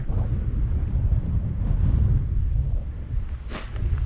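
Wind buffeting a microphone on a long mountain bike race climb in Moab, Utah, a constant low roaring rumble with gusty swells, loud and close, with no talking.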